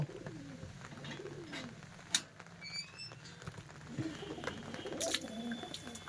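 Pigeons kept in an indoor room coo in repeated low, rolling phrases close by, with a few light taps and flutter sounds between them.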